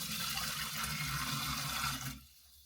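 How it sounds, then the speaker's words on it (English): Hot water pours steadily into a dish for washing up at a winter tiny-home cabin sink, a loud continuous splash and rumble that stops abruptly near the end. "I'm going to pour just a little bit of hot water in here"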